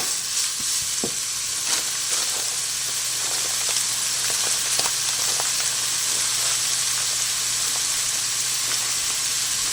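Vegetables sautéing in ground beef fat in a skillet give a steady, close, loud sizzle with soft crackles and occasional stirring scrapes, running continuously with no talk.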